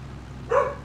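A single short dog bark from the farm dogs in Farming Simulator 22, heard alone over a faint steady background hum.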